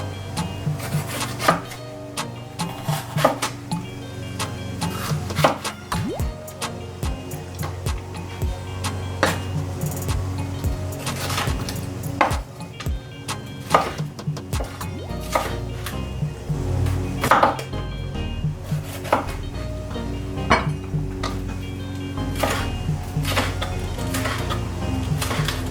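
Peppers and onion being chopped for spare ribs, a steady run of sharp knife strikes on a board under a constant low hum and faint background music, fairly close and even throughout.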